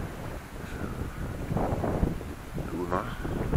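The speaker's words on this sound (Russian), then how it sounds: "Сегодня западный ветер." Gusty westerly wind buffets and rumbles across the microphone at a beach resort, with faint muffled voices mixed into the noise.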